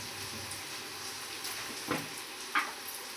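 Onions with curry leaves frying in a pan for dal palak give a soft, steady sizzle, close and fairly quiet, broken by two brief clinks of stirring near the end.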